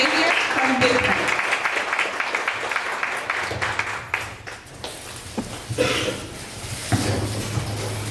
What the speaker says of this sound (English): We stand up and we give them a round of applause